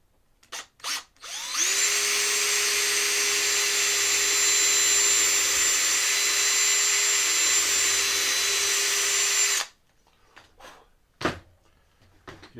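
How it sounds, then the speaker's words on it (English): Power drill boring holes in a cigar box guitar, one steady high whine running about eight seconds, with a few short knocks and handling sounds before and after. "We'll drill some holes."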